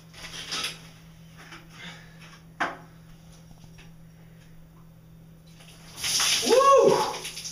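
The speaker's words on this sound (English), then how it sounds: "this is my first ever shower from a bucket" Water poured from a bucket over a body in a first-ever bucket shower, a splashing, sloshing gush near the end after mostly quiet room tone with a few small knocks.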